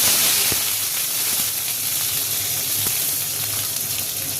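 Onions sizzle and fry in hot oil in a wok with bay leaf, dried chilli and five-spice tempering, a steady close hiss running throughout with a few faint clicks of stirring.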